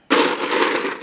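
Ice cubes tumble into a mixing glass holding a local craft 100% rye whiskey cocktail, a sudden loud, close rattle and crunch that starts abruptly and clatters on continuously for about a second, with no talking.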